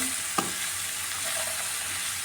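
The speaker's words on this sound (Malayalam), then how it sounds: "ഇതിലേക്ക് ഈ അരിഞ്ഞ് വെച്ചിരിക്കുന്ന വാഴയ്ക്ക ചേർത്ത് കൊടുക്കാമേ ഇതെല്ലാം കൂടെ നന്നായിട്ടൊന്ന് മിക്സ് ചെയ്യാമേ" Chopped raw banana and onion for a Kerala thoran stir-fry in a pan, making a continuous close hiss with a single sharp scrape of a spatula early on.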